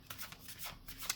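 Tarot cards shuffled quickly by hand, a quiet riffling of soft papery flutters and slaps over about a second, ending in a brighter crisp snap.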